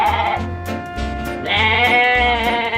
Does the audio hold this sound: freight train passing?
no